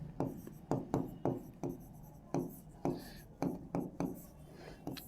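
Chalk or marker strokes on a board while the writer lists Uttar Pradesh districts, about ten short scratchy bursts in an irregular rhythm, close and fairly quiet.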